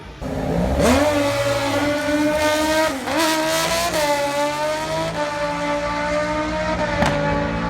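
Motorcycles drag race down a quarter-mile strip, loud engines screaming up through the gears with sharp rising shifts, passing close and then fading, with no talking.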